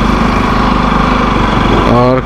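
Bajaj Pulsar NS200 motorcycle engine idling steadily up close, a continuous low rumble with a slight rev change near the end, with someone talking over it.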